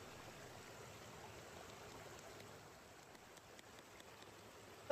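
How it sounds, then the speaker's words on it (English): Water rushes steadily through a cleared drain as a faint, even hiss with no breaks and no voices. "Is that relaxing for you to hear the water rushing?"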